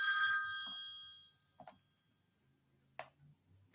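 A phone's text-message ringtone chimes loudly at the start with a bright, ringing multi-tone burst, then fades, followed by a few faint clicks and taps in a quiet room.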